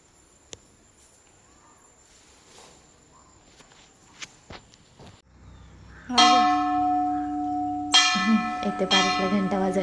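A temple bell is struck twice, around the middle and again near the end, each time ringing loud and close with a long sustained shimmer over quiet outdoor ambience and a few faint footsteps.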